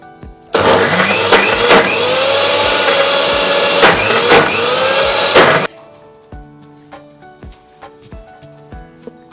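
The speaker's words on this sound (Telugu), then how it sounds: "మిక్సీ అయిపోయిందండి పచ్చడి, గోంగూర పచ్చడి" A kitchen mixer grinder whirs loudly for about five seconds while grinding gongura chutney with garlic, then cuts off abruptly, leaving quieter clatter and knocks.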